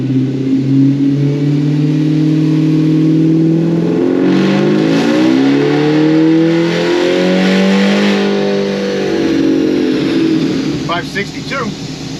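A Chevrolet C10 pickup with an LT4 engine, running an ethanol blend, revs hard through a pull, its loud, close engine note climbing steadily in pitch before easing off near the end.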